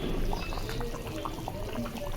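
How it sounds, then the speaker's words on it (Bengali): Hot water pours into a pan of fried fish and potatoes, a steady close splash and trickle lasting a couple of seconds, with a faint sizzle from the hot pan underneath. "তারপর গরম জল দিয়ে দিচ্ছি"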